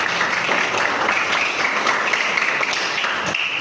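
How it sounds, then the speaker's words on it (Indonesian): A classroom group claps for a student, a steady patter of many hands lasting a few seconds, fairly close and even, with no voices over it. "Tepuk tangan dulu untuk Baby."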